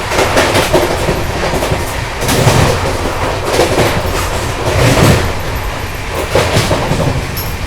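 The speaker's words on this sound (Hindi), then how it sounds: "ट्रैक साउंड का आनंद लो" CR Rajdhani Express 22222 running at speed on track near Lalitpur, a steady loud rumble with repeated rhythmic clickety-clack of wheels over rail joints throughout.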